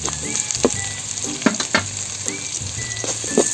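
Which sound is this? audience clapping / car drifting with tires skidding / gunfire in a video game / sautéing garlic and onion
sautéing garlic and onion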